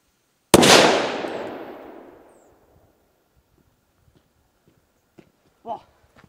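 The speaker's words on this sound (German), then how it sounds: "so wie ein Funke D-Böller" One loud, close Dum Bum P1 firecracker blast with a long booming decay, then near silence broken by a few soft knocks and a brief vocal sound.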